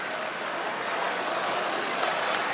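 Wrestling arena crowd cheering for Jey Uso at a WWE Raw King of the Ring first-round match against Finn Balor in Hartford: a steady roar of a big crowd with scattered shouts, continuous throughout.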